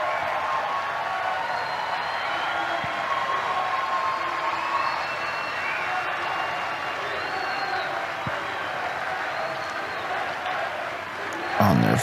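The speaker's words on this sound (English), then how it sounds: "On their feet, chanting USA" A crowd at the CPAC conservative political rally roars steadily, a broad continuous wash of cheering and chanting heard from a distance, with a burst of louder noise at the very end.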